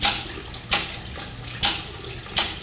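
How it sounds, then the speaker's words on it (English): Cement slurry surges out through a hose from an opened valve into a baler, a steady wet rush broken by strong gushing pulses about once every second. "Once I open this valve, this would be the cement slurry coming out through the hose"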